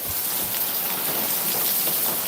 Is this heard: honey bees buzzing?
no